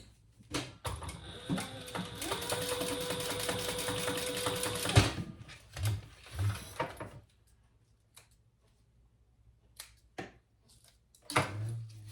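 A sewing machine joins fabric pieces in a steady, rapid stitching whir that runs about five seconds and then stops, followed by a few soft handling clicks and thumps nearby.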